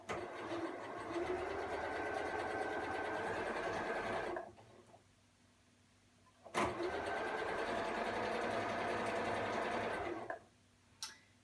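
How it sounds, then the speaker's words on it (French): A sewing machine with a quilting foot stitches a long seam joining fabric strips, running in a steady fast whirr for several seconds, pausing briefly, then running again, close and with no talk. "Donc je fais une ligne de couture tout du long des bandes."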